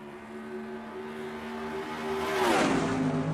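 Stock cars in NR2003 accelerate on a green flag restart at Auto Club Speedway, a droning multi-engine whine that rises and swells as a car sweeps close past, then fades slightly.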